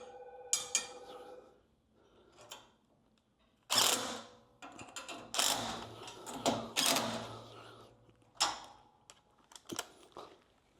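A clamp being tightened on a 12-foot camera boom gives a series of close, sharp metallic clicks, ratcheting turns and scrapes in irregular bursts separated by short pauses.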